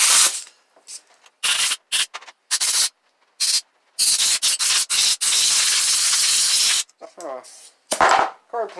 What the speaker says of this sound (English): So we just need to blow all the particulates out.